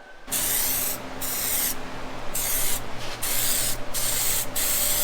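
A spray gun shoots John Deere green paint over primer on a John Deere 4045D engine, a loud close hiss in long bursts separated by short pauses, with a steady compressor hum underneath.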